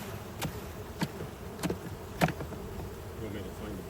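Honey bees buzz around an open hive during a colony inspection before feeding, a soft continuous drone punctuated by several brief louder bumps and knocks at a steady pace as bees are shaken into the hive.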